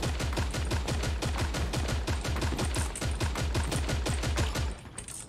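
Sustained automatic gunfire in the Creative Destruction shooter game: a rapid, evenly spaced stream of loud shots for about five seconds, cutting off just before the end.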